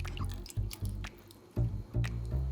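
Salted cucumbers being rinsed by hand in cold water: soft splashing, dripping and squishing from close by, with low thumps as they move in the basin.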